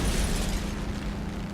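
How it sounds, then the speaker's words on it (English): A bomb explosion destroying a pillbox in a combat flight video game, a heavy, dense rumbling blast that hits at once and slowly tapers off. "So lining up second bomb target. Another pillbox out."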